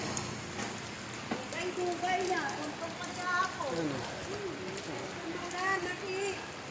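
Rain falls on a Christmas afternoon at an outdoor vendor's stall, making a soft, steady patter under a voice that talks throughout.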